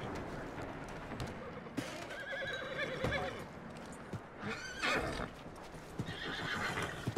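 A horse whinnies several times over steady clip-clopping hooves, with ambient game noise filling the background, in Red Dead Redemption 2.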